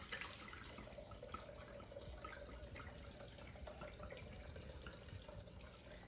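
Homemade limoncello, with the lemon peels still in it, is strained and poured into a measuring container. A quiet, steady trickle and splash of liquid runs without a break.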